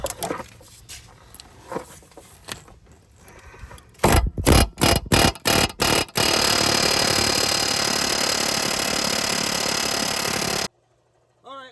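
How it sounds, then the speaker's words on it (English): A pneumatic air hammer pushing out a front lower ball joint on a 2011 Nissan Rogue rattles loudly in a few short bursts, then hammers continuously for several seconds before cutting off abruptly, close and harsh. "For that, we got the trusty air hammer again."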